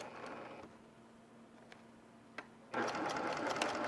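Sewing machine stitching quilt pieces: a short whir, then a quiet pause with small clicks, then the motor starts up again in a fast, close, continuous run.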